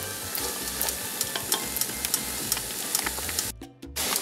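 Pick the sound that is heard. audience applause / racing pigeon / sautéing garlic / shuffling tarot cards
sautéing garlic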